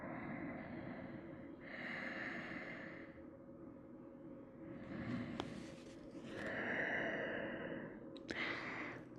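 Slow, deep breaths during a yoga class in a garland pose squat sequence, long soft airy inhales and exhales rising and falling close to the ear, with no talking.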